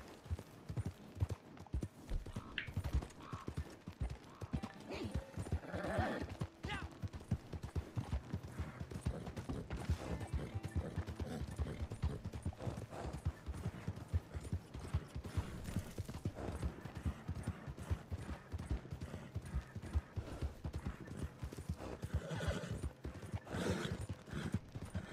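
Horse hooves clip-clopping steadily in Red Dead Redemption 2 Online, with a brief whinny; dense, continuous galloping rhythm close up over game ambience, no talk.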